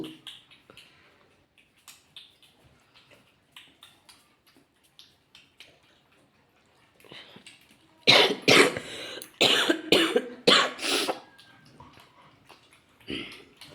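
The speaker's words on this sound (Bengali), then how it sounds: "আমার একটু ঠান্ডা লাগলে এত কাশি বাড়ে।" Someone with a cold coughs indoors near a Labrador puppy, a run of soft, scattered coughs and throat noises followed by a louder burst of several harsh, rapid coughs near the end.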